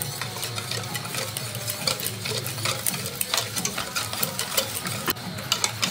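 Dessert mixture of jackfruit with chopped pistachio, raisins and a cup of water being stirred by hand in a pot, a steady close scraping and swishing with small clicks throughout, no talking.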